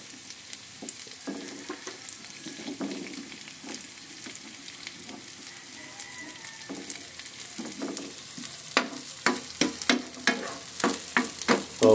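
Onions sizzling as they fry in a pan, a steady crackling hiss throughout that builds toward the end, joined by quicker stirring scrapes, close up with no talk.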